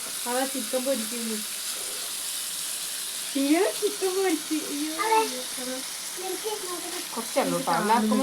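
Chicken pieces frying in a pan, a steady hiss of sizzling oil running throughout while someone talks over it in bursts.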